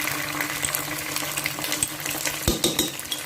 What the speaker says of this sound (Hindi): अब हम डालेंगे इसमें अदरक लहसुन का पेस्ट।